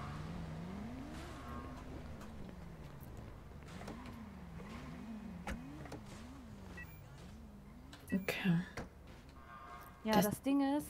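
A car driving in the video game GTA V, an engine drone that rises and falls with gear changes, heard steadily under people chatting, with a couple of louder bumps toward the end.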